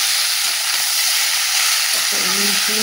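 Cauliflower frying in hot oil gives a steady, loud sizzling hiss that fills the whole stretch, with faint clatter and a soft voice-like hum underneath near the end.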